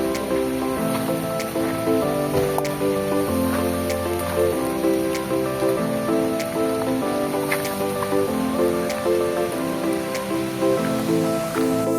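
Steady, loud rush of water from a waterfall reached on a trek through dense jungle brush, a continuous close wash of spray and tumbling flow with no voices.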